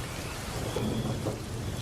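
Steady heavy rain pours down in a dense, unbroken hiss with a deep rumbling undertone, no voices present.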